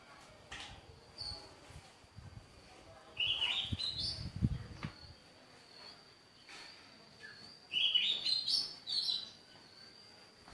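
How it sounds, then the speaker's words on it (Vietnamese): Old birds give two short bursts of chirping several seconds apart over faint background noise, fairly soft and without speech. "Toàn chim già đấy, nhảy kinh lắm."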